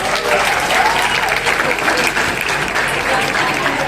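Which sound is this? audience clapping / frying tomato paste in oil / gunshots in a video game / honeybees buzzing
audience clapping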